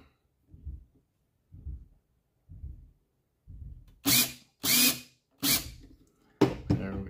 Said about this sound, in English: the drill I was unscrewing and now it's screwing again